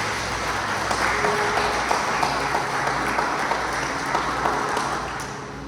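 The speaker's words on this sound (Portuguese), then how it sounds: "Já dá uma salva de palmas ao Senhor aí." Congregation at a church service applauding, a dense, steady wash of clapping that holds for several seconds before easing off at the end, with a faint tonal hum beneath.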